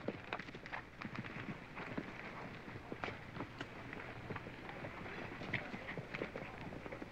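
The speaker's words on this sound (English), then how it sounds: "Trot your horses, please." Faint, rhythmic hoofbeats of horses trotting sound at a distance under a steady wash of background noise, with no clear voices.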